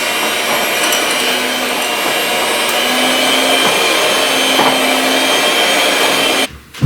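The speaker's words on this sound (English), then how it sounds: "So I'm gonna mix up my cake mix with this." Electric mixer beating pumpkin ricotta cake batter in a home kitchen: a steady, loud motor whir with a faint tonal hum runs unbroken for several seconds, then cuts off abruptly at the end.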